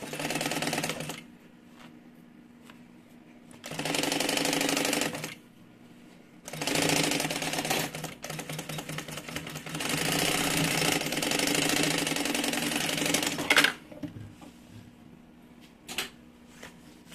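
Sewing machine stitching all the way around a mini two-in-one backpack close to the edge, running in several loud sustained bursts separated by short pauses, with no talking.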